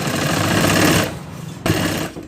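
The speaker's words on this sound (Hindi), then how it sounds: "यहाँ 2 इंच के मार्क पे हमें सिलाई स्टार्ट करनी है" Sewing machine stitching net fabric for a bridal lehenga, a loud steady rapid whirr that dips briefly, then restarts with a sharp thump and runs on, with no talking.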